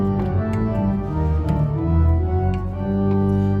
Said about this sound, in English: The pedal principal chorus sounds like this.